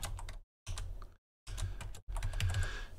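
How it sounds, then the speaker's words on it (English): Code is typed on a computer keyboard in quick bursts of close, crisp key clicks separated by short silent pauses, with no voices. "as I type this piece of code"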